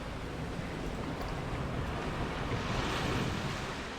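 Water on a rapids ride in a theme-park building video game rushes and splashes steadily, a dense continuous wash of noise with no talking.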